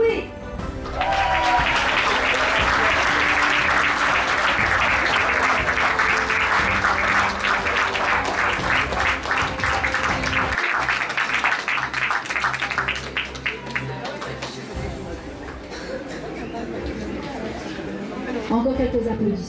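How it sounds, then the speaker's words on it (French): Audience applause at a beauty pageant, a long, loud sustained wave of clapping with some cheering and background chatter mixed in, music underneath partway through, tapering off near the end. "Encore quelques applaudissements."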